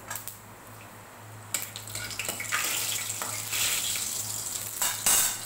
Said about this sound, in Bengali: কড়াইতে তেল দিয়ে দিয়েছি, দিয়ে দিলাম শুকনো লঙ্কা ফোড়ন আর একটু পাঁচ ফোড়ন